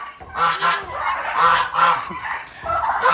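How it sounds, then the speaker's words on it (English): Loud, repeated honking calls of a goose and turkeys, several bursts in quick succession, close by. "Turkeys are so loud. Turkeys and goose."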